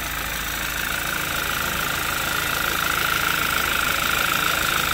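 A 2011 Audi TT Quattro 2.0T TFSI engine with prior engine damage runs at a steady idle, a continuous close mechanical drone with a faint rhythmic ticking.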